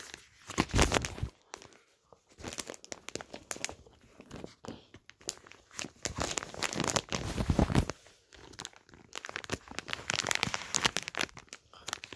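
A plastic package of Dude Wipes flushable wipes is pulled and ripped open, giving a close run of crinkling, crunching and tearing bursts across the whole stretch with brief pauses between them.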